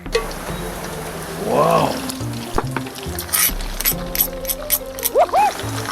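Fluffy shredded catfish frying in hot oil, a loud, steady sizzle and bubbling close by, with stirring knocks and someone talking over it.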